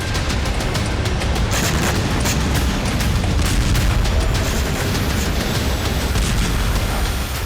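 Continuous loud rumbling with repeated deep booms and crackling blasts of explosions and fire at an oil depot in Voronezh, Russia, after drone strikes, dense and unbroken throughout.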